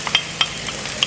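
Finely chopped onion sautés in a pan with garlic and chilli, a soft close sizzle broken by a few quick stirring scrapes and clicks, with no voices.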